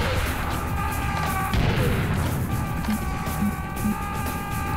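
Explosions and crashing blasts in Serious Sam HD, a dense, loud burst of booms with a heavy impact near the middle, layered over continuous game sound and background music.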